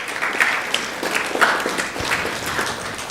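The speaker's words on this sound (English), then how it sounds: "So please give them a big round of applause also." Audience applause at a temple community gathering, a lively round of clapping from a moderately sized crowd, fairly close, with scattered louder claps rising and falling across the few seconds.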